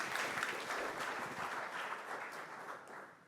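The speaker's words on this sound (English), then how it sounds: "please give a warm welcome with a big applause to Samuel Colvin." A meetup audience at a Sentry and FastAPI gathering in Berlin applauds steadily for a speaker. Many hands clap in a continuous, even wash that stays fairly distant and quiet throughout.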